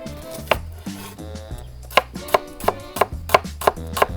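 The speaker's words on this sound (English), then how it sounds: "We're gonna slice the shallots next." A knife thinly slicing shallots on a cutting board, a quickening series of crisp, close chops with short, sharp board knocks for a green mango salad, no voices.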